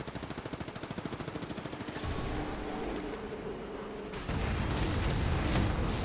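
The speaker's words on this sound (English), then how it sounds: "Calling the airstrike." Airstrike barrage in the mobile game Apex Legends Mobile: a rapid stutter of automatic fire gives way to a loud, sustained rumbling roar of heavy impacts that swells again near the end, dense and close with no talk.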